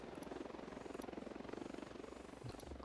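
Helicopter rotor chopping steadily in the video game Ghost Recon Wildlands, a continuous rhythmic whir at moderate distance, fairly quiet and without talk.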